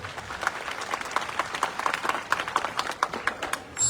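An audience at a quiz-show style event claps steadily, a moderately distant, thin round of applause with scattered individual claps throughout.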